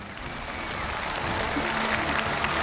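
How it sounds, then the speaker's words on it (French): Studio audience on a French television challenge show applauds a guest, steady broadband clapping building slightly and holding at moderate level throughout. "Et applaudissements pour Chang Yuli"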